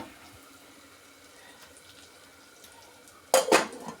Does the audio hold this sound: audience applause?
no